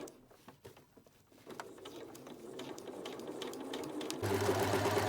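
A sewing machine stitches a dress seam 1 cm from the fabric edge, its fast mechanical whirr building from faint to steady and growing louder and closer near the end.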